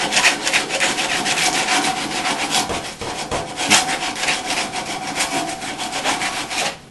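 80-grit sandpaper rubbed briskly over the cut end of a pipe, a close, continuous rasping scratch with quick back-and-forth strokes and no voices.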